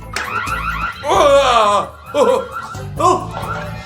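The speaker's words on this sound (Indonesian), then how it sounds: "Alarm, teman-teman." An alarm going off indoors, a wavering tonal wail rising and falling in repeated bursts, loud and close, with voices mixed in.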